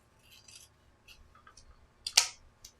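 Scissors cut a ribbon into a dovetail end while making an Easter bow, giving one crisp, fairly close snip near the end of the clip after faint rustling and light handling.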